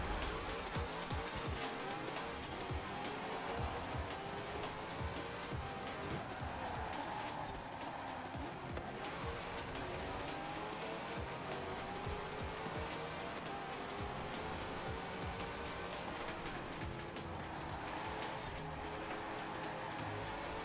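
A car engine roars steadily in the video game GTA, with occasional tire squeal over a dense, continuous wash of driving noise. The sound is fairly quiet and runs unbroken throughout.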